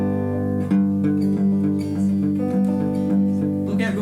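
A guitar in open tuning is strummed with one hand during a live performance at a German club in Canberra, giving a steady, rhythmic run of ringing chords heard up close.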